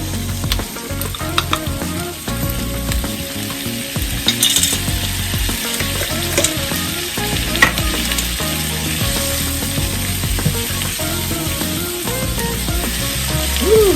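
Green beans and minced garlic frying in a hot pan, a dense continuous sizzle with occasional stirring scrapes and light clinks, close and steady throughout, no speech.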